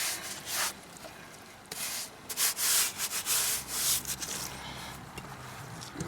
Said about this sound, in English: Put a nice thick coating on, rub it into the hide.